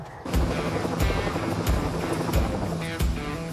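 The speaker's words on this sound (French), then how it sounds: "il y a un hélicoptère qui vous attend au-dessus, vous prenez l'hélico et vous partez dans l'Himalaya" A helicopter waits overhead to fly a team toward the Himalaya. Its loud, close rotor thumps beat in a steady rhythm over a broad roar of engine and wind.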